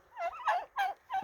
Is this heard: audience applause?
no